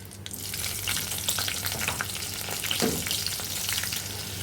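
Cumin seeds and green chillies sizzle steadily in hot oil in a pan, with a dense crackling hiss that holds at an even, close, loud level throughout and has a few sharper pops and stirring scrapes, without talk.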